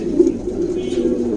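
A pair of white desi King pigeons coo in a low, steady, continuous murmur, fairly close and moderately loud, with no talking over it.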